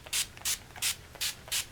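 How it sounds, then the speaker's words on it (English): Five short bursts of cosmetic setting spray hiss at an even rhythm, each a soft mist close to the mic, with quiet pauses between. "Now for the final round of setting spray."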